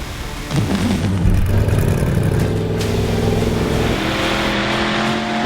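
Engines roar up close, revving hard with a rising pitch, then settling into a loud, sustained drone before climbing again.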